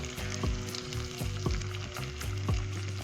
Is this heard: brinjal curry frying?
yes